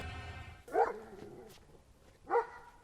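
A dog barks outside at night, two short, sharp barks spaced well apart, fairly close, with quiet stillness between them.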